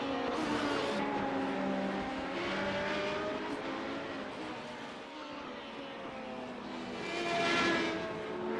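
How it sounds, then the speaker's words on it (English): Race cars lapping the Silverstone circuit, a continuous roar of several engines swelling and fading as cars pass, loud and close with a rise near the end. "The car behind the red car I think is Muller, German driver who's come to Silverstone to race with us."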